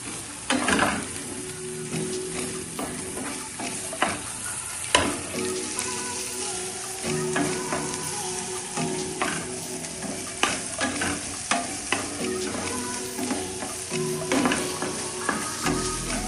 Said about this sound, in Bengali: আর একটু তেল দিয়ে কড়াইয়ে আমরা কাঁচা পেঁয়াজগুলোকে একটু ভেজে